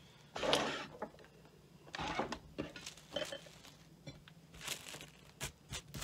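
Saran plastic wrap is stretched and handled around a sanded tire, giving faint, uneven crinkling and tearing rustles in short bursts close by, with no talking.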